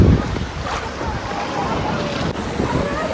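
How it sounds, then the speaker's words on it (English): Choppy water in a wave pool at Disney's Blizzard Beach water park sloshes and splashes continuously, a broad rushing wash with wind buffeting the microphone and no voices. "It has like the same kind of choppy waves."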